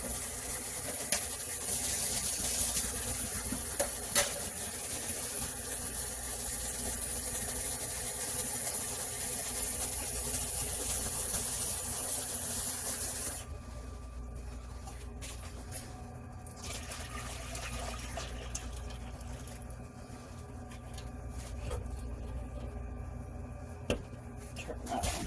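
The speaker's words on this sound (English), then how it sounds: "I'm going to go ahead and get some water going for my mac and cheese" Tap water runs into a pot for mac and cheese in a home kitchen, a steady hissing flow for about thirteen seconds before it cuts off, leaving quieter room noise.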